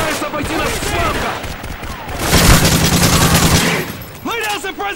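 Heavy gunfire in a Modern Warfare 3 Survival match on the Village map, with sustained bursts and a loud automatic volley in the middle, while soldiers shout over the shooting.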